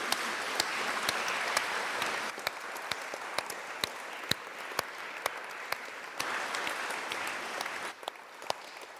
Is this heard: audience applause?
yes